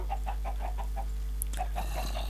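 Chickens in the Minecraft video game cluck in a quick series of short, evenly spaced game-sound clucks, over a steady low background hum, with no talking.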